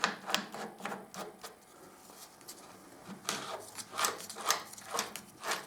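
Nut being screwed down tight on a Kawasaki motorcycle head stock during bearing work, a series of faint close scraping and ratcheting clicks in irregular bursts, heard alone.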